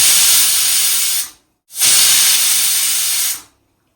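A pressure cooker whistle blows while mutton cooks inside, giving two loud, sharp steam hisses of about a second and a half each, separated by a short pause and ending in silence.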